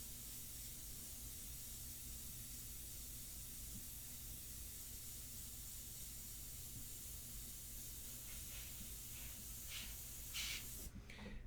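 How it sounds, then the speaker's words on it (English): An airbrush sprays India ink in a steady, faint, continuous hiss while a portrait is painted, with a few short sharper bursts near the end. "I'm just going to establish that edge with the airbrush alone."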